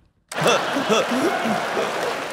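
A comedy-show audience bursts into loud, sustained applause with some chuckling, a dense crowd clapping at close range after a ventriloquist's joke.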